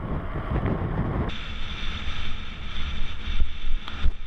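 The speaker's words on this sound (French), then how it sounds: "Il y a sûrement un peu beaucoup de vent là." Strong wind buffets the microphone in a loud, rumbling roar during a bike ride, gusting unevenly throughout.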